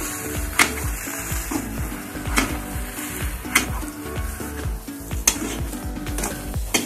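Sugar is stirred into puran poli filling in a pan, with repeated spatula scrapes and clinks against the metal at an uneven rhythm over a faint sizzle, close and clear.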